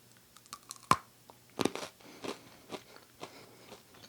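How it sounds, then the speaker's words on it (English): Someone bites into crunchy keto pretzel sticks, nut-free and gluten-free and topped with everything bagel seasoning. One sharp, loud snap comes first, then a run of softer crunching and chewing bites, close-up and with no talking. "let's see if this thing actually has an actual crunch and snap like traditional pretzel sticks."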